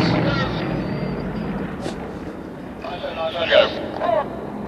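A Yak 50 aerobatic aircraft of a display team flies a barrel roll at an air show, its engine droning at moderate distance with rising and falling surges, partly under a commentator's voice.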